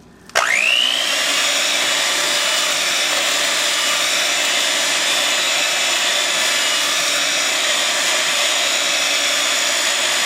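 An electric mixer with a wire whisk attachment whirs steadily as it beats milk and pudding mix for banana cream pie, a loud continuous motor whine starting abruptly and holding at constant speed with no talking.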